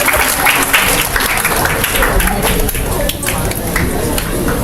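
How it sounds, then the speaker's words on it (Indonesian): Sustained audience applause fills the hall at the close of an academic legal cooperation event, a dense, loud wash of clapping from many hands with no break. "mari kita beri tepuk tangan yang meriah atas pelaksanaan kerjasama ini"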